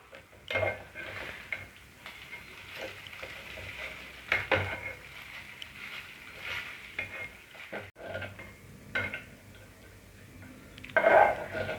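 A spoon scrapes and clinks against a pan while vermicelli upma is stirred, giving intermittent close metallic taps and scraping over a soft background sizzle.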